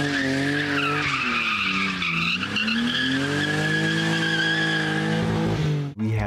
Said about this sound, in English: Those are epic donuts.